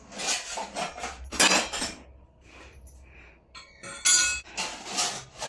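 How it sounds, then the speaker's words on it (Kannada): Cooking pots and vessels are put away in a home kitchen, giving loud metallic clanks and clinks in irregular bursts, with quiet scraping between them. "ನಮ್ಮ ಎಲ್ಲ ಪಾತ್ರೆಗಳನ್ನೆಲ್ಲ ಎತ್ತಿಡ್ತಿದ್ದಾರೆ"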